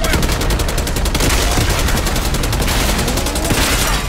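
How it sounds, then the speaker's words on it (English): Rapid, dense gunfire in Call of Duty Black Ops 6, a continuous loud burst of overlapping automatic shots that runs through the whole moment with no clear pauses. "We just shooting y'all, we're not even shooting at anything."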